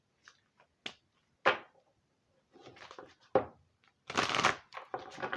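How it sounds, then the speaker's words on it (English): Chakra oracle cards are shuffled by hand in short separate bursts of riffling and snapping, close and fairly quiet, with pauses of near silence between them. "Trying to shuffle these a new way too."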